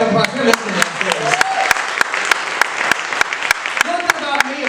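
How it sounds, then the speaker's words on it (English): Warm applause from an audience at an LGBTQ coming-out storytelling event in Baltimore, with close, sharp individual claps over a steady crowd clapping bed and some voices mixed in. "Give them a big round of applause."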